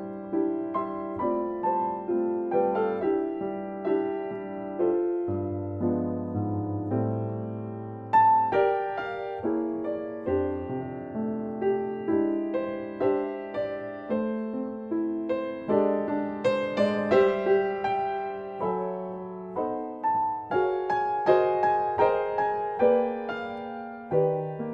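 Solo jazz piano playing a reharmonized arrangement of a Christmas song, rich chords and flowing melodic lines at a steady moderate volume, close and clear, no voices.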